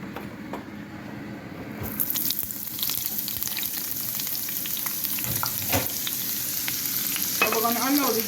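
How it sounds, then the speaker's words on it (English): Onion sizzles steadily in a hot frying pan, a loud, continuous crackle with occasional stirring scrapes and a brief voice near the end. "So we're going to allow this to saute"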